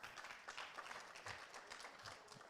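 An audience claps throughout, steady and dense applause at a moderate distance with no single voice standing out above it.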